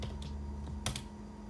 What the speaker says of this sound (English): and then just typing patent next to it